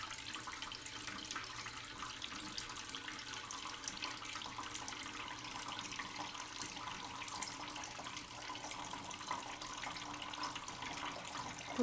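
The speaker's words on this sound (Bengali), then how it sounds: "এবার দিয়ে দিলাম জল" Water pours steadily into a pot of potato and climbing perch curry after the potatoes have been fried down in village-style cooking, a continuous, fairly quiet splashing stream with no talk.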